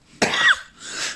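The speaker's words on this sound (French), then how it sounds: "ça me fait tousser" A single harsh cough bursts out close to the microphone, then a softer breathy rasp follows a moment later, with no speech around it.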